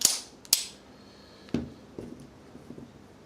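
Metallic clicks and clacks from an FN M1905 Browning .25 ACP pistol being checked clear, two sharp snaps close together followed by several quieter mechanical clicks, near and alone.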